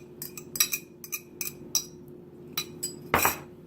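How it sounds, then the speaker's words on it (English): Eggs being beaten for bread pudding, a utensil clinking against a bowl in a dozen or so quick, uneven taps and scrapes, close and fairly quiet over a low steady hum, with one louder clatter near the end. "I'm going to mix my eggs before I add them into with my my bread"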